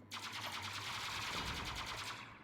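Minigun fire in the video game UpGun, a loud, rapid, unbroken stream of shots lasting the whole stretch, with no voices over it.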